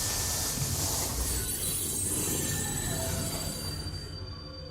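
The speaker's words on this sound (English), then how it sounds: "These trains were never meant to run non-stop like this." Steady, loud metallic squeal of train wheels on a train in 1000xRESIST, a continuous high-pitched screech over a rumbling rail roar that holds throughout and eases slightly near the end.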